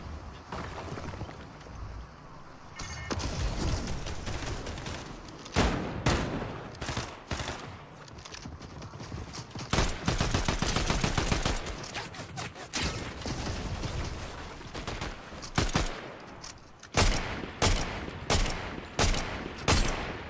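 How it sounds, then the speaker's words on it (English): In Fortnite, a gun fires almost nonstop in long rapid bursts of automatic shots, loud and close, with short gaps between the volleys. "Why is my gun just shooting?"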